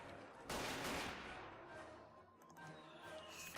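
Gunfire in Battle of Empires 1914-1918: a dense burst of rifle and machine-gun fire opens loudly, then gives way to scattered distant shots and battle noise.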